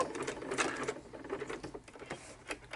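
A sewing machine stitches tags onto junk-journal cards in quick, close, rattling bursts with brief pauses between runs.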